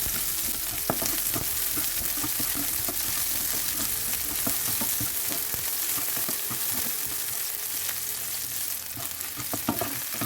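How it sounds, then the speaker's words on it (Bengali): Steady, loud sizzling of onions frying in a pan, with occasional stirring scrapes and clicks throughout, no voices. "আমি এই যে পেঁয়াজটা দিয়ে দিলাম। পেঁয়াজটা একটু লাইট ভেজে নিব"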